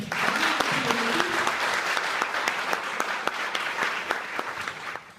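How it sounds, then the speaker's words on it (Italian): Sustained applause from an audience, dense steady clapping with sharper individual claps standing out, continuing throughout. "vorrei un applauso"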